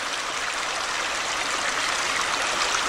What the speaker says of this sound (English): I believe this is Elder Run, this stream right here.